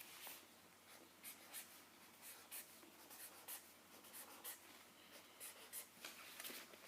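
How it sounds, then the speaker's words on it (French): Pen or pencil drawing boxes on paper: soft scratchy strokes in short, repeated bursts, close and quiet against a faint hiss. "Donc maintenant, je vais dessiner mes boîtes."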